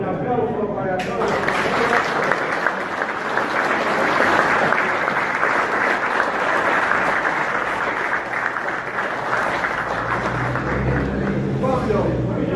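An audience at a historical talk on the founding of the town of Talleres gives sustained, even applause that fills the room for over twelve seconds, with a voice briefly cutting in at the start.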